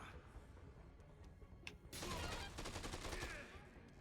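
Grenade exploding in the video game Dead Rising 2: a sudden loud burst with crackling, rattling debris that lingers about a second and a half, preceded by a few sharp clicks.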